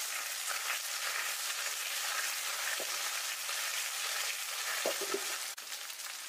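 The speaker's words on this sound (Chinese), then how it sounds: "油热之后下入沥干水分的土豆条，给它小火慢煎。" Drained potato strips fry slowly over low heat in hot oil in a wok, giving a steady, dense sizzle with a few soft crackles and light bumps throughout.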